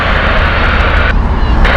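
An Oman Air Boeing 787-9 from Muscat at Heathrow, a steady loud jet engine roar filling the whole moment without a break.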